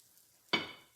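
A spatula slides an andouille sausage and pepper omelet onto a plate, making one brief, close scrape with a hiss that quickly fades.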